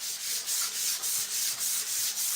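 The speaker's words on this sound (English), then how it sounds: "I'm just going to quickly lightly sand it. So this is a Dixie Belle sanding sponge." A worn Dixie Belle sanding sponge, equivalent to 220 grit, is lightly rubbed over painted furniture in quick, even back-and-forth strokes. The close, rhythmic scratchy swishes repeat about three times a second.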